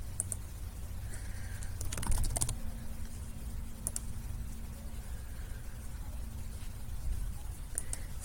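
Computer keyboard typing goes on steadily as light clicks over a constant low hum, with a few sharper taps standing out near the middle.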